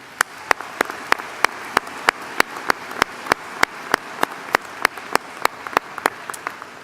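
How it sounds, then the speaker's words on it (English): Sparse applause for honor society students at a spring university commencement ceremony: a handful of sharp, evenly spaced claps ringing out one after another in a large hall, with no talking. "Let's give them a round of applause, please."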